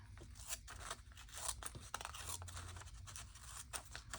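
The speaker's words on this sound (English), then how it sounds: "So let me just do a rough cut here." Scissors cut roughly around a paper page held in the hand, giving faint, irregular crisp snips and crunches close by.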